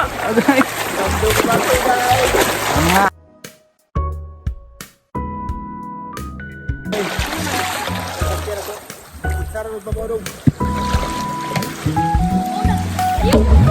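Water splashes and churns close by in a stream near a banana farm, with people talking and calling out over it, briefly dropping away before the splashing resumes.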